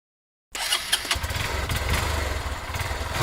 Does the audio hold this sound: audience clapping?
no